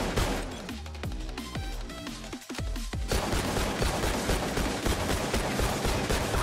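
Heavy gunfire in Payday 2, overlapping shots and bursts rattling on over a busy game soundtrack, loud and continuous without speech.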